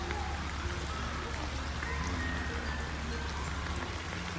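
Steady rain falls at Copenhagen Zoo near the bear enclosure, a dense continuous patter on surfaces filling the whole moment with no break.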